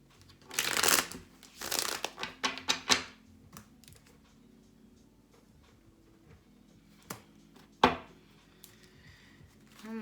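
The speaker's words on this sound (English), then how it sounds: "I'm gonna shuffle for Leo." Playing cards being shuffled during a weekly astrology reading, in two loud riffling bursts at the start followed by softer card handling and taps, with one sharp snap near the end; no one speaks.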